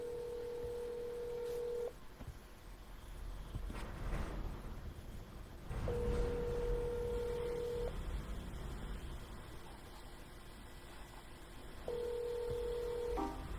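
Three bursts of steady telephone dialing tones, each about two seconds long, sound at even intervals over a faint background hum during a round of cold calls, with no talking.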